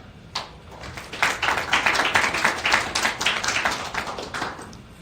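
Audience clapping welcomes speaker Kaj Arnö at a tech talk, a dense round of applause swelling after a first few claps and sustained steadily to the end.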